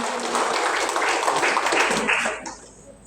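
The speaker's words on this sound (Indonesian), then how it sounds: "Boleh tepuk tangannya untuk Dekranasda Provinsi," A crowd at a Central Sulawesi craft council (Dekranasda) gathering claps together, a dense moderate round of applause that fades out near the end.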